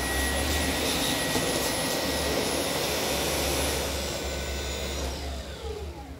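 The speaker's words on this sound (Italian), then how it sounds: "calcolando che è un aspiratore, un aspirapolvere senza filo, avete visto? Aspira veramente, veramente bene." A cordless vacuum cleaner runs at maximum power, a loud, close, steady high-pitched whine with a whooshing airflow roar that dips and falls near the end.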